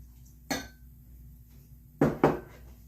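Carrot cake batter made with water, oil, vanilla and vinegar and no eggs, mixed in a bowl in a quiet kitchen: three sharp clinks of a utensil against the bowl, one alone, then a close pair.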